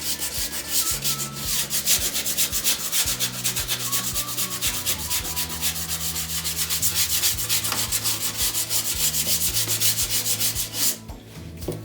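Hand sanding of an epoxy shower wall with 220-grit sandpaper: steady, loud rapid back-and-forth rasping strokes close up, continuous for about eleven seconds before stopping, with no talking.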